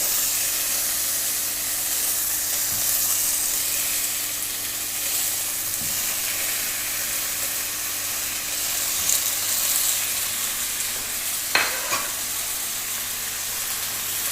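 Whole tomatoes placed cut-side down one by one in a pan over medium heat for tomato garlic chutney, giving a steady sizzle with a few soft knocks and clinks, close and alone with no talk.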